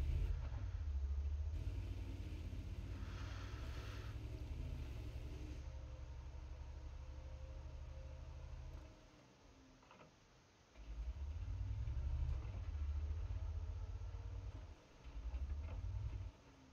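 A tank engine in a video game rumbles low and steady as the vehicle drives forward, dipping quieter around the middle before revving back up, with no talking.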